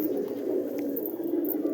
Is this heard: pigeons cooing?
yes